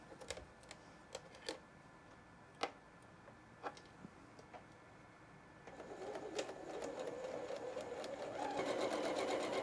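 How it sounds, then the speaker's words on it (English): A sewing machine stitches a flannel quilt block in short bursts at first, then runs steadily and louder for the last few seconds, close by with no talking. "back to the sewing machine."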